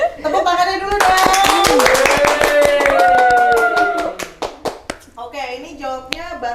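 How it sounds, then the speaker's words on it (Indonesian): A small group claps hands loudly and close by during an Indonesian talk-show chat about landing a job. The sharp claps mix with cheerful voices talking and calling out over them. "Tepuk tangannya dulu dong."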